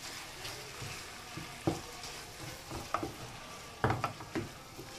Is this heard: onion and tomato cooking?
yes